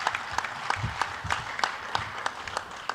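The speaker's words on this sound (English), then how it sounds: "Give yourselves a round of applause" Applause from a conference audience at the opening of a sports and entertainment business event, steady clapping with sharp individual claps standing out, moderately distant and fairly faint.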